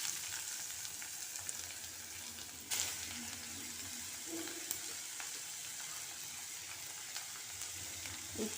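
Beetroot fries with curry leaves, green chillies and shahjeera in a pan, giving a quiet, even sizzle and crackle. A couple of faint knocks from stirring break the steady hiss, and no one speaks.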